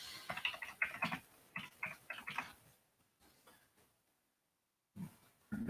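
Rapid bursts of clicking keyboard typing during a live coin auction stream, loud and close, coming in quick clustered runs, then a short pause with faint taps and a few more keystrokes near the end.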